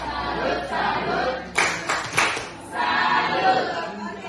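A group of people performs the rhythmic "tepuk salut" clapping chant together, with bursts of sharp, loud claps in a patterned rhythm between stretches of chanting voices.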